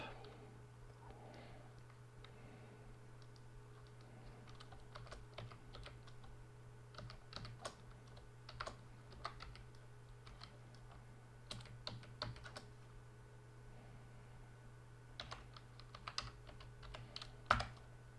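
Someone types a password on a Chromebook keyboard, soft irregular clicks and taps in quick bursts, faint and close against a low steady hum.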